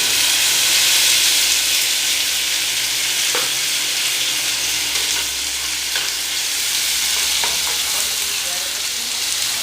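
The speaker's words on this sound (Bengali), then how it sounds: "তো এখানে আমি পেঁয়াজের পেস্টটা ভেজে নিচ্ছি ভালো করে" Onion paste frying in a pan for a fish curry, a loud, dense, continuous sizzle with faint occasional stirring clicks.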